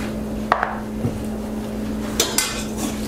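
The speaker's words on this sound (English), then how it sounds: "And we're gonna mix that up real nice." Taco filling is stirred with salt and pepper in a bowl, giving a few scattered clinks and taps of a utensil against the bowl over a steady background hum, close but sparse.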